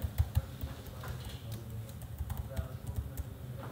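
Typing on a computer keyboard with quick, light clicking keystrokes in an uneven rhythm, close and moderately quiet, under low background noise.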